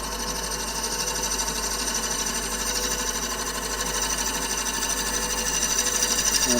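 A wood lathe spins a huge rotten wood bowl at 800 RPM, a steady, loud mechanical whir and hum that holds unbroken throughout, with no talking.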